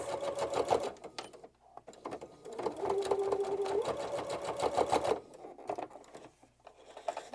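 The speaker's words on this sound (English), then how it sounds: "So as you get to this corner, you do want to back stitch to finish it off." A sewing machine runs in close, rapid bursts of needle chatter while back stitching the corner of a fabric composition notebook cover, starting, pausing and restarting in short runs.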